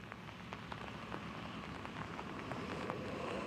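Steady rain from storm Sandy falls on surfaces at an empty rodeo ground in New Jersey, a dense continuous hiss with scattered louder drops, even and moderately loud throughout.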